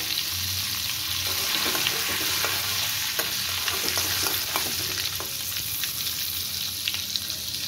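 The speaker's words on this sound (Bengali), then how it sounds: "দেখুন আমি গ্যাসে কড়াই বসিয়ে দিয়েছি, এর মধ্যে কিছুটা সাদা তেলও দিয়ে দিয়েছি। আর এর মধ্যে দিয়ে দেবো 1/2 টিস্পুন মতো বাটার।" Butter and white oil fry in a kadai on a gas stove with a steady, fairly soft sizzle and spattering crackle, plus occasional light stirring clicks close by.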